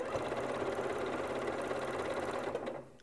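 A Janome MC9400 sewing machine runs a long straight stitch in a fast, steady whir of needle strokes, close and loud, then winds down just before the end.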